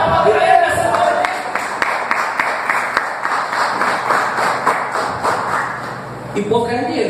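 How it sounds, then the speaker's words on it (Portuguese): A church congregation claps together in sustained applause, with voices from the crowd mixed in. "você pode aplaudir Ele nessa noite"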